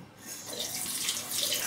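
Tap water running into a sink for working up a shaving lather, a close, steady gushing stream rising slightly in strength, heard alone.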